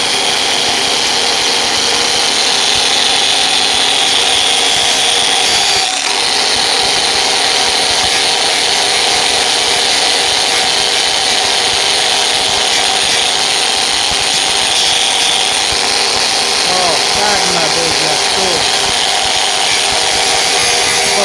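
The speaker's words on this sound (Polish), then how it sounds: "I szlifujemy. Te wszystkie mikroryczki muszą zniknąć." A power sander works a surface smooth around a drilled hole to remove fine scratches. A loud, steady machine whine runs close and continuous throughout, with only a momentary dip partway through.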